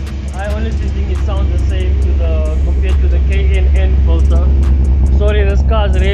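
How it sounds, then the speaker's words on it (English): A loud running car engine rumbles steadily underneath, with someone speaking loudly over it the whole time. "car is really loud, so I have to speak loud now"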